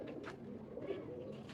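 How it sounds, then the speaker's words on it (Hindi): A Teddy-type pigeon coos softly nearby, a few low, rounded hooting calls over quiet background with faint higher chirps from other birds. "ये कबूतर है"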